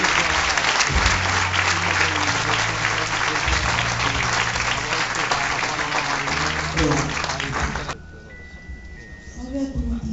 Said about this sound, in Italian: Chiedo un applauso anche per Teresa Rossi e la famiglia di Daniela Rossi.